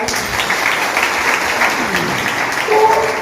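Applause for a speaker at a DXN business motivational seminar in India, steady dense clapping from a crowd lasting the whole few seconds and swelling slightly near the end.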